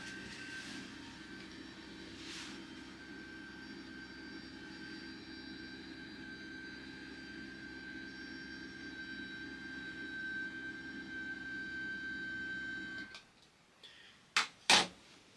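Steady electric motor hum as a motorized table rises inside a Mercedes-Benz Unimog U300 expedition camper, a constant close whir lasting many seconds before stopping with a couple of sharp clunks.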